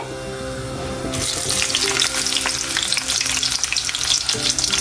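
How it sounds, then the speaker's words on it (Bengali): Bay leaf and whole garam masala fry in plenty of hot oil, a close, loud crackling sizzle that jumps up suddenly and continues densely with small pops and the scrape of stirring. "তার মধ্যে দিয়ে দিয়েছি তেজপাতা, আর সাথে একটু গোটা গরম মশলা ফোড়ন দিয়ে দেবো"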